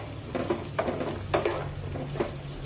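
Mixed vegetables, peas among them, stir-fried in a pan over a medium flame give a steady low sizzle, with periodic scraping and stirring strokes rising out of it, close and alone.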